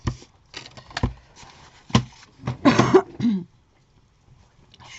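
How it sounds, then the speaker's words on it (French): A woman coughs and clears her throat several times in short bursts, close and fairly loud, with a quieter papery rustle of folding paper between the coughs. "j'ai encore un peu la toux"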